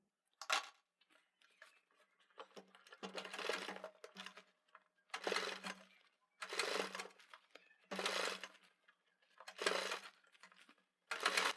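A sewing machine stitches a kurti collar in short bursts, each a quick whirring run of needle strokes, with brief quiet gaps between them and faint handling clicks.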